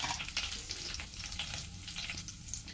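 Green chilies fry in hot oil in a pan for mint chutney, a steady close crackling sizzle with dense popping throughout and no talk.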